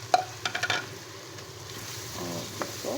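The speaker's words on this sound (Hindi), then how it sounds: "5 मिनट हो गए हमें इसको भूनते हुए कीमे को" Minced meat (keema) fries in a pan with tomatoes and green chillies, a steady soft sizzle broken early by a few sharp spatula scrapes and stirring clinks, with no talking.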